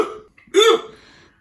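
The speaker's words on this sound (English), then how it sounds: "You give me the hiccups." A single sharp hiccup after eating extra hot food, loud and close, with a brief vocal jolt and faint breathy trailing sound.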